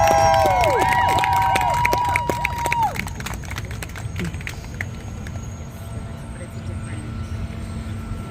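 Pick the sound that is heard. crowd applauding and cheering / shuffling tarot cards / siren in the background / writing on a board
crowd applauding and cheering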